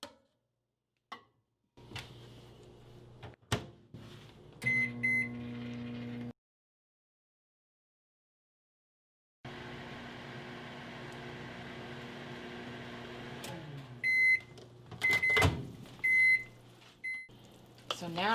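Microwave oven heating cheese in a kitchen, with clicks and the door opening, a steady humming run for several seconds, then a second long hum ending in a series of beeps.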